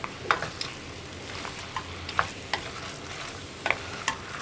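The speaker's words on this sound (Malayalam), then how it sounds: "മല്ലിപ്പൊടിയും ചേർത്തിട്ട് നന്നായിട്ടൊന്ന് ഇളക്കി കൊടുക്കുക" Mutton curry spices, including coriander powder, fry in a pan while being stirred, making a soft, steady sizzle with a few scattered light scrapes and taps from the spoon, all faint and without voices.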